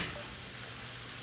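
Ginger and garlic being stirred in a frying pan, a steady close hiss of sizzling oil with no break.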